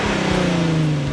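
A Hyundai Genesis Coupe's 3.8-liter 306-horsepower V6 with short ram intake and high-flow dual-outlet exhaust drones steadily with a smooth, throaty tone, pitch easing slightly downward over a brief second, close and fairly loud.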